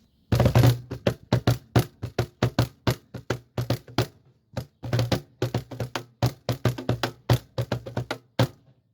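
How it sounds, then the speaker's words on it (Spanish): A Peruvian wooden cajón struck by hand in quick, uneven runs of sharp knocks and thumps, loud and close, with two brief pauses between bursts and no voices. "Es un cajón de madera que se llama cajón peruano."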